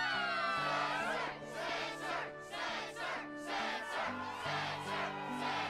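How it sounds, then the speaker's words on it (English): Video game crowd in Kingdom Hearts HD 2.5 ReMIX roaring and cheering at a Struggle tournament, a loud continuous wall of voices with rhythmic surges and chant-like swells over steady game music. "the crowd is fired up, so you know what comes next."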